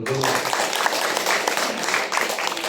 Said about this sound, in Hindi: स्वागत में ताली हो